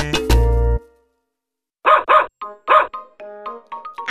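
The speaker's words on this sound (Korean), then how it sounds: "아기 강아지" Puppy barks in a Korean children's song, heard as a loud yip at the start, a pause, then a run of short high bow-wows close up, mixed with sung or voiced tones.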